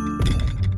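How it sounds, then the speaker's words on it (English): Big cartoon footsteps in a children's animated fairy kingdom show: a few heavy, booming thuds land close and loud in an uneven stomping rhythm, with no talk. "That's the sound of big feet."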